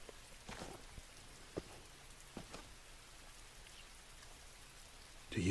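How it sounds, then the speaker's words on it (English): Rain falls outdoors in The Walking Dead: Michonne game as a steady fine patter with a few louder drips, moderately close, and a brief loud thump at the very end. "Guess we're going into the rain."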